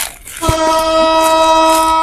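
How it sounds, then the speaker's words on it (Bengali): A train horn blares loudly and steadily after a brief low thump as a train arrives at Dhaka Airport railway station, sounding close by. "ট্রেন মনে হয় তো চলে আসলো নাকি"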